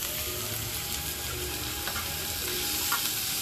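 Chopped vegetables for a veg momo filling, onion and carrot among them, fry and get stirred in a pan, making a steady dense sizzle with faint spoon scrapes throughout.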